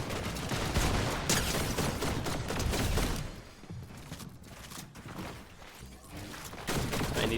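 Rapid gunfire bursts in a Fortnite competitive match, dense volleys of shots that briefly thin out midway before resuming loud and close.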